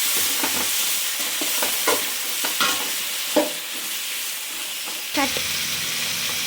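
Tomatoes for chutney fry in a pan with a steady sizzle. A spoon scrapes and stirs at a loose, irregular rhythm, close by.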